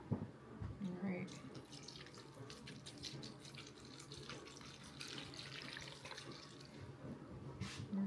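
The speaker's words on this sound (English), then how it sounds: "I am gonna go ahead and wet this down with my pro foliage water" Water pours and trickles while a potted plant is wet down with a foliage watering can, a steady soft splash with a few drips, close by, and some faint background sounds mixed in.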